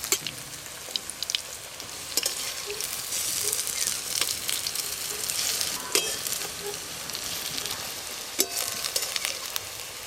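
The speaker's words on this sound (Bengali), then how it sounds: "এই কম আছে বড়াগুলো ভাজা করছি, ধীরে ধীরে ভালো করে ভাজাও হচ্ছে" Malabar spinach leaf fritters sizzle in oil over low heat, a continuous crackling fry with scattered sharp pops and spatters throughout.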